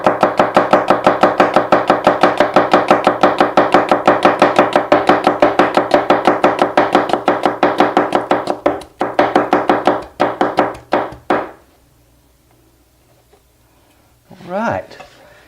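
A knife slices an onion into thin slivers on a cutting board in a fast, steady run of crisp chops that slows to a few scattered cuts and then stops, followed by a brief voice.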